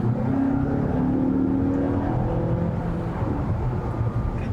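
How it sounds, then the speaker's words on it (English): A 2020 Mazda6 four-cylinder engine revving under acceleration, a steady moderately loud drone with a rising tone heard from inside the car, no talking. "the engine in this car, what do you think of the sound?"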